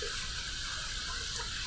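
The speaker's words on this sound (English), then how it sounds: "Heating this under some hot, hot, hot water." Hot water runs steadily from a tap while a razor is warmed under it before a shave, a continuous close hiss with no talking.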